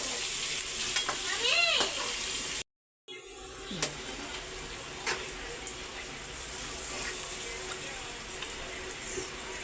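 Ground meat fries in a pan, a faint continuous sizzle with occasional scraping stirs and clinks, and one brief dropout partway through; people talk softly in the background.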